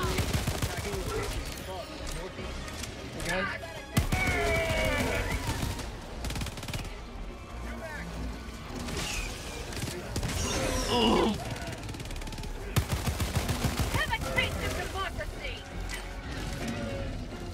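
Autocannon fire in the video game Helldivers 2, heavy mechanical bursts and clanking shots mixed with chaotic game effects and people talking throughout.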